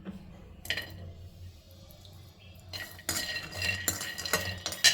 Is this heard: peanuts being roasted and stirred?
yes